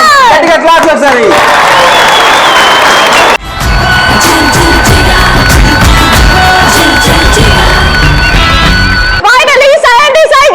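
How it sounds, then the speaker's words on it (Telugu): A studio audience on a Telugu television game show bursts into loud, sustained clapping and cheering with whoops after a countdown, a dense crowd roar that cuts in abruptly and holds for several seconds, with voices shouting over it. "గట్టిగా క్లాప్స్ ఒకసారి."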